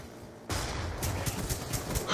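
V1 rifle gunfire in Black Ops 2 multiplayer: a sudden loud burst of rapid shots starts partway through and keeps rattling close by to the end, with no talk over it.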